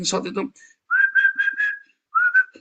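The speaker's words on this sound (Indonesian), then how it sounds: "Jadi kalau anakmu lagi singsot, bersiul-siul gitu ya, tak apa-apa" A person whistles a short tune of several sustained notes in two phrases, close and clear in a quiet room, after a brief burst of talk.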